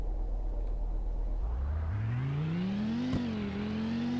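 A 2008 Bullhorn Python in the Roblox game Greenville accelerates in sport mode, its engine note climbing smoothly from a low rumble to a higher whine, with a brief gear-change dip, steady and close.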